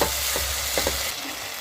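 Tomato paste fries in a pan of oil with onion, ginger and garlic while a spoon stirs it, giving loud, steady sizzling with a few scraping strokes, then a softer hiss.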